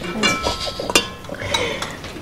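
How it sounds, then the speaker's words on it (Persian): Parsley going into a pot of soup on a home cooking set, with soft metallic clinks and scrapes of a utensil against the pot, close and fairly quiet, without talk. "حالا جعفری رو میریزم تو این"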